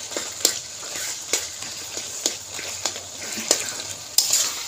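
Tomatoes cooking in hot oil in a pan, a soft steady sizzle broken by regular sharp scrapes and taps of a spatula stirring, close and clear.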